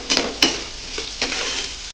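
Chopped onion frying in a pan for amboli wada, a soft steady sizzle broken by a few sharp clinks and scrapes of a spoon stirring against the pan.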